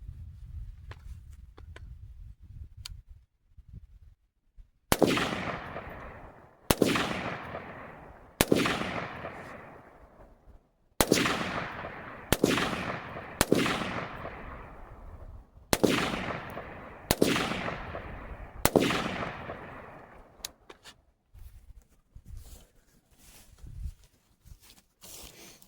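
A PSA PA-15 M16A4 clone rifle fires single shots at targets outdoors, about nine sharp, loud reports with ringing decay, spaced a second or two apart, after quiet handling noises.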